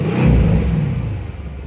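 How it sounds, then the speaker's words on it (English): A 2017 Mercedes-AMG C63 S Cabriolet in Sport Plus mode revs its engine, a loud deep rumble swelling early then easing back to a lower throaty drone. "I can immediately hear those revs coming up"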